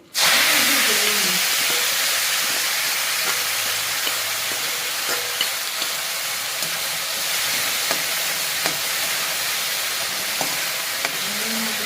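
Oil heats and sizzles in a pan for a Gujarati-style spring onion curry, a steady broadband frying hiss lasting throughout with small crackles and pops, close and fairly loud, with no voices.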